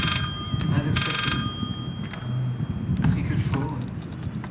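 A telephone rings inside a room in the horror game Layers of Fear, sounding in short electronic bursts over game ambience, with a voice talking over it.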